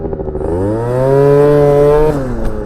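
Yamaha Jog scooter with an upgraded clutch and variator revving hard during a wheelie, its small engine whining up in a rising, strained buzz, holding high, then dropping off sharply near the end.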